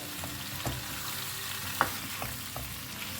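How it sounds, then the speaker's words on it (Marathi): Chicken sausages fry in a pan over medium flame, giving a steady close sizzle with a few small pops and light stirring taps, no speech. "सो आतां न्ही आमकां हे सॉसेजीस न्ही बरें फ्राय करून घेवंक जाय."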